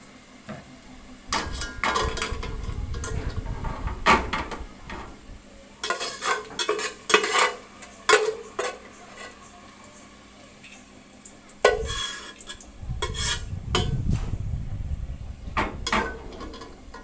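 Onions frying to golden brown in a pot for biryani are stirred in bursts, with spoon scrapes and clanks against the pot over a steady sizzle, loud and close, and a few quieter pauses.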